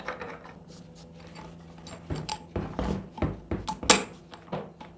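Side handle on an electric impact wrench being loosened and adjusted, producing a series of close, sharp metallic clicks, rattles and ratcheting ticks that grow louder and more frequent toward the end.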